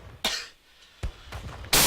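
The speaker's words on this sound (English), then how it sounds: "Sorry about that cough" A few sharp, close coughs in separate bursts, with short quiet gaps between them and a final louder hack at the end, no talking around them.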